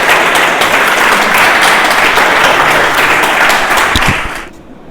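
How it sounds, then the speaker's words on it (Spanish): A room full of people applauds loudly at a school Book Day event, a dense even burst of clapping that carries on for over four seconds before quickly dying away. "Un aplauso."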